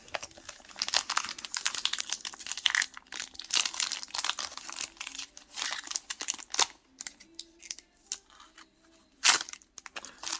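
Crinkly plastic wrapper of a Pokémon booster pack being torn open and crumpled, a close run of dense crackles and rips lasting several seconds with a sharper burst near the end, no voices.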